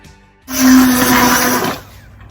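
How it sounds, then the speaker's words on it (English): A handheld blender whirs loudly for about a second in hot tomato and leek soup, starting abruptly and cutting off just as suddenly, with nobody talking. "always use a handheld blender because it's hot."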